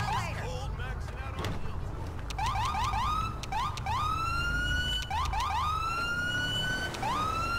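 Emergency vehicle siren in the GTA 5 video game, from an ambulance and EMS callout, wails and yelps in quick repeated rising sweeps, loud and close, over a rumbling engine bed.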